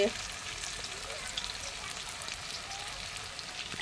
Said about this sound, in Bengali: তাই পকোড়া তেলের উপরে দেওয়া হচ্ছে।